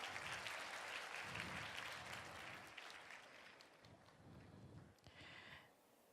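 Faint, distant applause from an audience at a Seoul youth citizens' assembly after table voting: a broad patter of clapping that tapers slightly and ends with a brief final burst.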